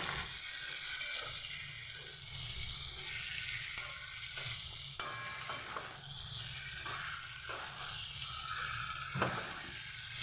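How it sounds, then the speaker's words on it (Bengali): Chopped tomato hitting frying spices in a pan for a mutton and potato curry, a continuous sizzle with intermittent spatula scrapes as the mixture is stirred, close and alone. "মশলাটা যখন কষানো প্রায় হয়ে যায় তখন আমি এবার দিয়ে দেবো টমেটো কুচি"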